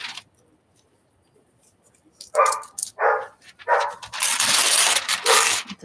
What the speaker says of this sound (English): The dog is very excited about something.